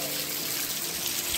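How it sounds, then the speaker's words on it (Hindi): A small waterfall near a cave trickles softly and continuously, a gentle broadband wash like a small stream spilling over rocks, with no voices. "यहाँ से एक छोटा सा झरना"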